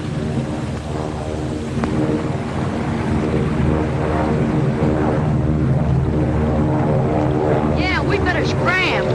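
A propeller plane drones loudly and steadily nearby as it comes in to land, its engine rumbling, with voices talking over it, in a 1939 film.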